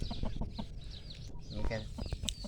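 Burmese fighting rooster and hens clucking close by in a farmyard pen, short irregular clucks and calls layered over background noise, with someone talking underneath.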